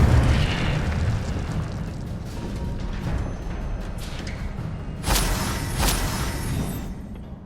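Incendio fire spell being cast in the Hogwarts Legacy video game, a loud rushing burst of flame that roars steadily and swells again near the end, with no talking.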